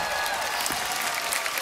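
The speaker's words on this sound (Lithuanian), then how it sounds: "Ar dar nori dar kartelį išgirsti žiūrovų plojimus?" Studio audience at a televised children's singing blind audition bursts into sustained, dense applause, loud and steady from start to finish with no pauses.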